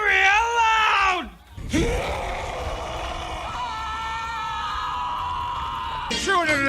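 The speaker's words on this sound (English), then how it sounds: "whenever anyone says the secret word, scream real loud!" Loud group screaming and yelling erupts at once, a sustained shrill burst that cuts off, gives way to a long held cry, then flares again.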